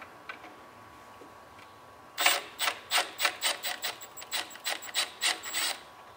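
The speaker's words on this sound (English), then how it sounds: "loosen up the 14 millimeter nut on the brake arm. Deep socket, just back this out." A deep socket ratchets on the 14 mm brake arm nut of a vintage Honda ATC70 trike, about fifteen quick, evenly spaced clicking strokes, close and clear with no talking.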